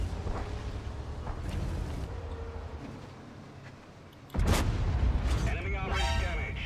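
A deep tank cannon blast booms out partway through over rumbling battlefield noise in a video game, with a voice speaking briefly under the din.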